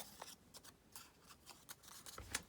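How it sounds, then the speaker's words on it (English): Scissors making small snips through paper edges, a series of quiet, evenly spaced cuts, close and faint in a quiet room. "And then you want to cut these edges off just so they're not sticking out."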